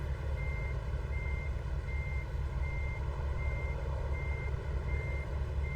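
Stock SES truck engine sound in American Truck Simulator: a steady low diesel rumble drones throughout, with a repeating reverse-style beep pulsing over it at regular intervals, no talking.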